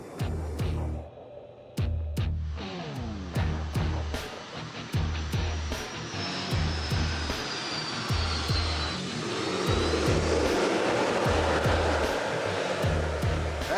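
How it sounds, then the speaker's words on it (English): A Nolinor Boeing 737 descends on final approach and lands, its jet engines roaring loudly and continuously with repeated rhythmic pulses, then swelling into a dense, broad rush near the end. "Up above, the 737 is on final approach."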